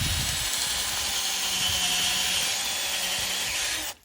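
A drill bores about 1.5 inches into the sapwood of a Manitoba maple tree for tapping, a steady high whine held for several seconds before it cuts off abruptly, close and loud.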